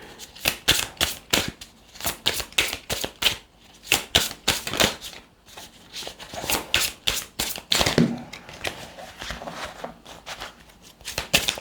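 Tarot cards are shuffled by hand in rapid bursts of crisp riffling slaps and flicks, close and irregular with brief pauses between runs, no talking.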